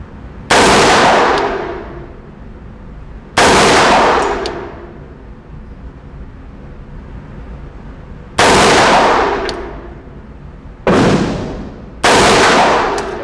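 Five loud, sharp AR-15 rifle shots with a magnified red dot sight, fired outdoors at irregular intervals, each with a bright crack and a long decaying echo.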